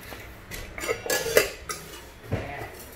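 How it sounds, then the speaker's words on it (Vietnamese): Metal pots and pans knock and clatter against one another as they are handled at a Japanese household goods sale of pressure cookers and frying pans, giving several close, sharp clinks in an uneven rhythm with no talk. "Thêm một cái nồi chị nha."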